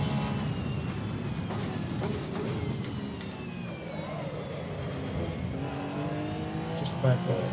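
Porsche Cup race car engine in the Assetto Corsa Evo racing game, a steady droning engine note with shifting pitch sweeps as it revs and slows, heard continuously under someone talking.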